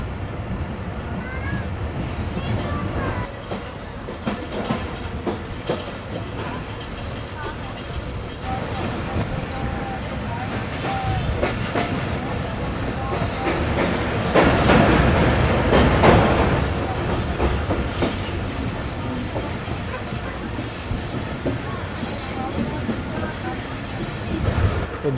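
Karachi Express train rolling into Hyderabad Junction after a sharp curve, with a steady loud rumble of wheels on track and carriage noise throughout, swelling louder midway; faint voices sit under the din.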